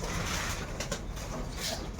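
Pigeons kept by breeders and racing flyers coo softly and steadily under a dense background murmur, with several low overlapping calls running through the whole stretch.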